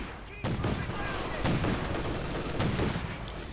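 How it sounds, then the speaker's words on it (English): A flak panzer fires its 30cm flak cannon in Company of Heroes 2, with rapid repeated gunfire bursts over battle noise, loud and continuous. "the flak panzer is left to deal with the infantry with its 30cm flak cannon"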